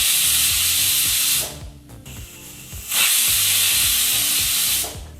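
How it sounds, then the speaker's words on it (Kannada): Loud pressure cooker whistle releasing steam over a stove while cooking chana rice bath, two long sustained hissing bursts separated by a brief quieter gap, no talking. "ಈಗ ಇಲ್ಲಿ ಕುಕ್ಕರ್ 2 ವಿಸಲ್ ಬಂದಾಯಿತು."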